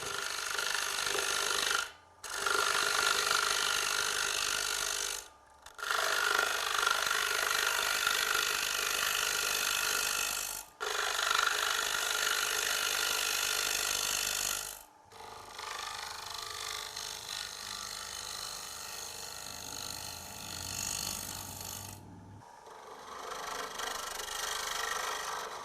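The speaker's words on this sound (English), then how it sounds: "Back to the round carbide cutter, we can now finalise our basic bowl shape." Round carbide cutter shaping a cross-grain wooden bowl blank on a lathe, a loud continuous scraping hiss in several long passes broken by brief pauses, over a low motor hum.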